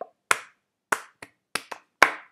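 Six sharp, separate claps in Roblox at an uneven pace, crisp and close, with silence between each one.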